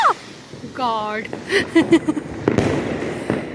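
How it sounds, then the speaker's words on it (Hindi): A Diwali firework rocket whistles up, then bursts and crackles with a few sharp pops close by outdoors, while people talk and exclaim over it. "तो ये चलेगा सेकंड रॉकेट।"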